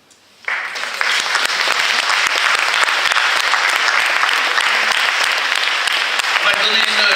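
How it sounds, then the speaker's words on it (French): Loud applause for honoured young regional talents at a Bourgogne-Franche-Comté awards ceremony, bursting in abruptly after a short quiet moment and holding steady to the end. "on les applaudit bien fort, mesdames, messieurs"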